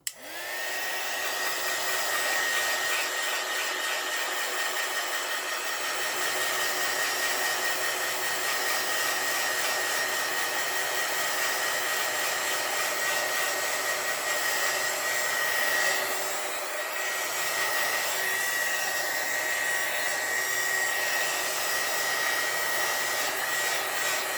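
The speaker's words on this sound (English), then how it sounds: "I'm going to use my heat gun to dry it." A heat gun drying alcohol ink on an art piece, a steady loud whooshing blower hum running unbroken for over twenty seconds with a faint high whine, close and alone without speech.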